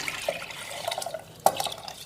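Water poured over soaked rice in a cooking pot for chana biryani, a light splashing and trickling with small drips and one sharper splash partway through.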